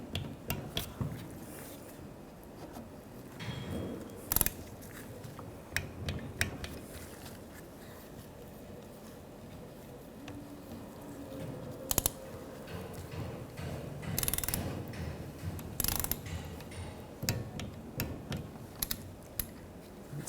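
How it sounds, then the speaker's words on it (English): Torque wrench clicking as intake manifold bolts on a 2011-2015 Chevy Cruze are cross-tightened to spec, giving scattered sharp clicks and ratchet ticks with metallic handling noise in between, fairly close and with no talking. "Now you want to torque those bolts to 71 inch-pounds. I'm just going to cross torque them just so it's tightened evenly."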